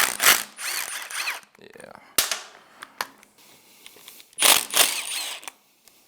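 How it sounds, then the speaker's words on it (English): A small impact wrench removes the engine case retaining bolts on a Yamaha YXZ1000R in two loud rattling hammering bursts separated by quieter clicks and handling noises, with a brief spoken word. "Let's get these retaining bolts off. This little impact should be enough to deal with it."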